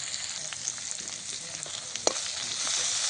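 Tomatoes and salt frying in a pan over a village kitchen fire, a steady broadband sizzle running throughout with light crackles and one sharp pop near the middle, growing slightly louder toward the end.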